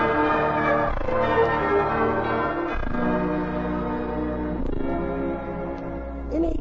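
A large Liberty Bell tolls with a sustained, ringing resonance, struck again at intervals of roughly two seconds, each new stroke layering over the lingering hum of the last.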